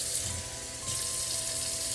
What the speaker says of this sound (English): I'm just gonna fill this pot with a small amount of hot water.